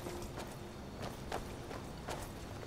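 Horse hooves clip-clop in the Skyrim video game, a few soft, spaced hoof knocks over a steady background bed, fairly quiet and without talk.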